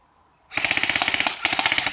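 Airsoft gun firing a rapid, even burst of shots outdoors near a swamp bunker, loud and close, with a brief gap before a second short burst.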